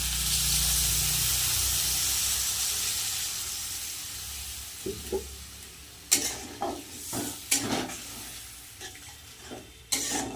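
Water is poured into a sizzling cauliflower curry masala in a pan, giving a loud steady hiss that fades, followed by a series of sharp stirring scrapes and clinks toward the end.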